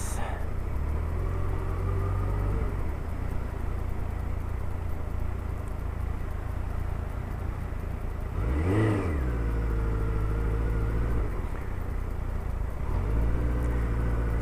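A Suzuki Hayabusa motorcycle cruises along roads toward Tewkesbury, its engine a steady low drone that briefly swells and revs up and back down in the middle, with continuous road and wind rush throughout.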